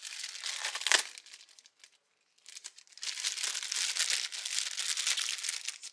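Plastic packaging holding hose clamps for a Forge intake system crinkles and crackles up close as it is opened, in two rustling bursts separated by a brief quiet gap.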